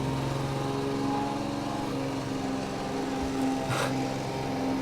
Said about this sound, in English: Just go away with your lawnmower.